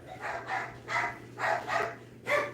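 Several dogs bark at a door indoors, about five loud, evenly spaced bursts over a couple of seconds, close by and with no talking.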